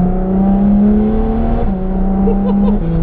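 A Ferrari F12 TDF's V12 hums at very light throttle, a loud, smooth and steady drone close to the listener with a slight dip in pitch partway through.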